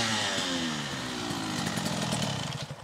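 A 2-stroke dirt bike engine revs and runs nearby, a buzzing, raspy tone that climbs and settles into a rough, pulsing idle.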